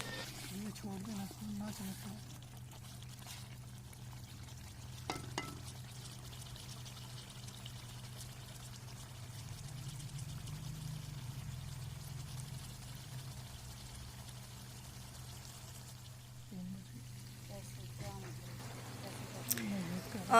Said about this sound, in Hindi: अब हम इसमें तकरीबन आधा कप के करीब मैंने इसमें पानी डाल दिया है।